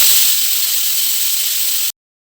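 A pressure cooker cooking beef curry releases a loud, continuous hiss of steam that stops abruptly, followed by a brief silence.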